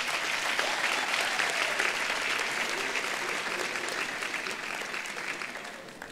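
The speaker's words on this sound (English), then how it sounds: "Please give them a round of applause." Graduation ceremony audience giving a sustained round of applause, a broad wash of many hands clapping in a large hall, loud at first and slowly tapering off.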